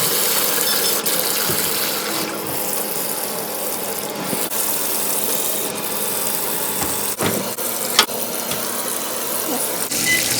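Water runs steadily into a washing machine on a cool pre-soak setting, a constant broadband rush with a few faint clicks and one sharp knock near the end, with no talking.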